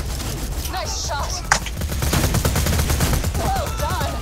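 Rapid video-game gunfire from Borderlands 2, a dense run of overlapping shots and bursts with one sharper blast midway, going on under several players talking over voice chat.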